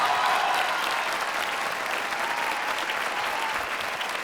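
Audience applause at a mushaira, an Urdu poetry gathering at Jashn-e-Rekhta, welcoming poet Abbas Qamar to the stage: dense, steady clapping from a large crowd that holds evenly for the whole stretch.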